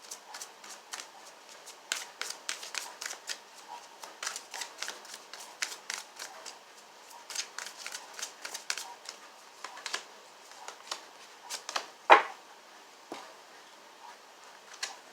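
Tarot cards shuffled by hand for a psychic reading, a continuous rustle of riffling bursts with one sharp slap near the end, heard alone without talk.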